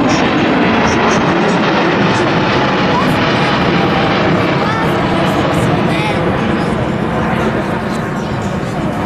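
An Airbus A350-1000 airliner with six-wheel main gear, flown by a test pilot at the Airexpo 2017 airshow, gives a loud, constant roar of jet engines, with a voice talking over it throughout.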